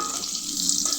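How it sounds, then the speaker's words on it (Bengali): Hilsa fish roe fries in a pan with a brief, steady, close crackling sizzle, alone and without any voices. "ইলিশ মাছের ডিম ভাজি হচ্ছে এখন।"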